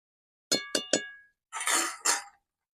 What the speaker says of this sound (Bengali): এবার চলো জল দিয়ে আমি ঢাকা দিয়ে দেবো এটা